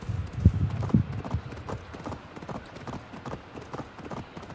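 Galloping horse hooves from the Assassin's Creed Valhalla video game beat in a quick, even rhythm throughout, strongest and heaviest in the first second before settling into a steady moderate pounding.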